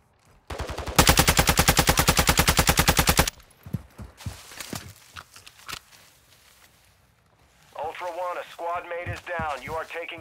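Call of Duty Warzone DMZ gunfire opens with a loud, rapid burst of automatic fire lasting a couple of seconds, followed by scattered shots and footsteps, then a radio-style voice speaks near the end.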